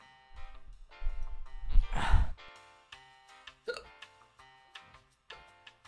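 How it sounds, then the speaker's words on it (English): A person hiccups repeatedly with sharp, close-up catches in an irregular rhythm, mixed with breathy sighs and gasps, in a quiet indoor space. "I still have hiccups."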